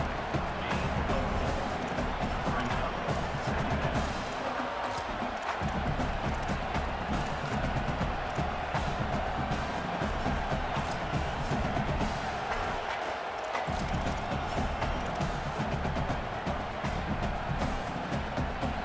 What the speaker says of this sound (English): this crowd is not going to fade away, and they're rising up now